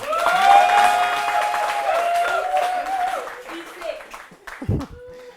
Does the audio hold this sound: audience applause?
yes